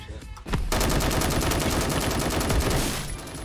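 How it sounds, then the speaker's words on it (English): Gunfire in the online shooter game Phantom Forces: a loud, nearly continuous burst of rapid automatic shots that tapers slightly toward the end, with no voices. "Oh dude, he's just shooting down at us."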